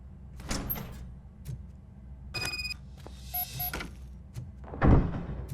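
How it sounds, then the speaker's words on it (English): A door being opened in a video game gives several distinct mechanical clunks and a short sliding rattle, then ends in a louder thump near the end, close and without talk. "Now let me get that door open for you."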